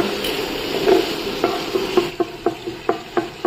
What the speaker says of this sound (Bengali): এবার মশলা কষবে